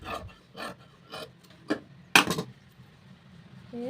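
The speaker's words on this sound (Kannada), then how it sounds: "ನಾನು ಇಲ್ಲಿಗೆ ಈಗ ಕಟ್ ಮಾಡ್ಕೊಬಿಡ್ತೀನಿ" Scissors cutting blouse fabric on a table: a handful of soft, separate snips spaced about half a second apart, with one sharper, louder cut near the end, quiet and close with no speech.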